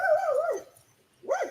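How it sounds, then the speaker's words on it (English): Dogs at home give a short whimpering yelp with a rising-falling whine, a brief pause, then a second higher yip, close and fairly loud. "Both of my dogs just went, whoop."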